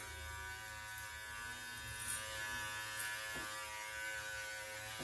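A steady, close electric clipper buzz runs throughout while cutting hair at the nape, with a couple of brief scratchy bursts as the blades move through hair.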